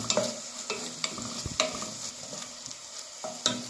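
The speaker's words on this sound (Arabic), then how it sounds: "وهنقلبها كده وهنستنى لغايه ما تدبل" Ground meat and potatoes being stirred and turned in a hot pan, with a steady sizzle broken by repeated scraping strokes of a spoon at irregular intervals, close and moderately loud, with no talking.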